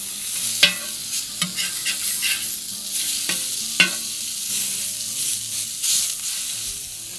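Ground pork sausage frying in a pan, a steady close sizzle with a few sharp spatula scrapes and clatters as the meat is stirred and flipped, no talking.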